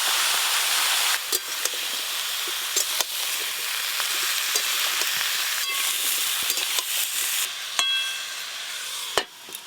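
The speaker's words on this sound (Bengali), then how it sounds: "তেল গরম হয়ে গেছে, কেটে ধুয়ে রাখা লাউগুলো দিয়ে দেব।" Chopped bottle gourd frying in hot oil, a steady close sizzle crackling throughout with scattered pops and clinks of a utensil, no voices.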